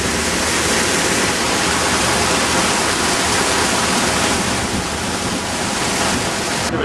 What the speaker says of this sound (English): Here's our water returning to our holding tank.